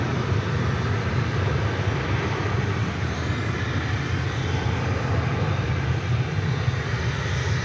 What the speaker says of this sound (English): There's an Airbus A321 coming into your view.